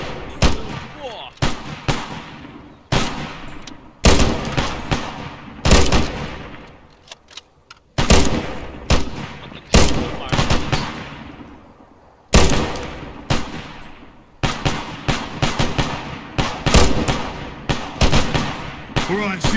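Gunfire in the video game Resurgent Honour, loud repeated shots and bursts with booming echoing tails, coming in irregular volleys with short pauses between them.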